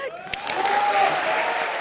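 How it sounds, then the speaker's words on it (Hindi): A brief, loud burst of studio-audience applause and cheering on a televised comedy show, with a sustained tone riding over the clapping. "जोरदार तालियां हो जाए"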